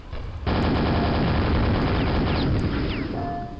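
Gunfire in the video game Quake, a sudden loud burst of rapid, continuous shots filling the scene for about three seconds, with a few higher whizzing sounds and no talking.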